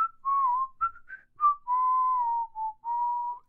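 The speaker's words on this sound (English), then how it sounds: "I'm really good at whistling." A person whistles a wavering tune alone, a run of clear sustained notes with short gaps, close and steady in loudness.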